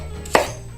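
A single sharp knife chop through green bell pepper on a cutting board, one brief crisp strike in a home kitchen while making a beef, corn and vegetable stew.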